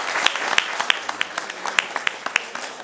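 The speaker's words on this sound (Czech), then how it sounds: "Zatleskejte jim" At a Czech village afternoon event, an audience gives a short round of applause, with scattered, fairly sparse claps ringing out at a moderate level and a few sharper ones standing out.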